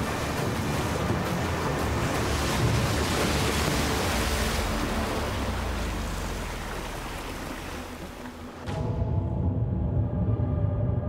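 Heavy ocean swell surges and washes around an offshore platform in stormy seas, a steady loud roar of water that shifts sharply near the end into a rumbling, lower-pitched wash.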